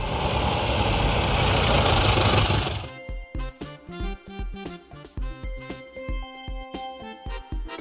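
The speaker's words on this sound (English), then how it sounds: "Fire rescue electric patrolling car." Toy fire rescue electric patrolling car: about three seconds of loud idling engine noise, followed by a steady rhythmic series of clunking mechanical pulses, close-up with no voices.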